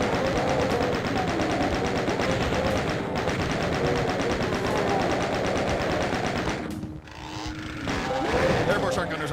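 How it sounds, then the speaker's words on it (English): Chain gun in the Doom video game firing a long, dense rapid-fire burst that stays loud almost throughout, dipping briefly near the end before resuming, with someone talking over it. "Chain gun."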